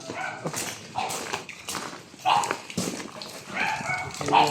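A dog barks and yips several times at close range amid a noisy, rainy outdoor village scene, with voices mixed in among the barks.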